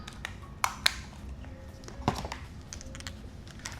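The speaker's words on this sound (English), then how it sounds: "Let's take out the batteries, the SD card" Small plastic clicks and taps from batteries and an SD card being taken out of an early digital camera, a few sharp close snaps spread over quiet room tone.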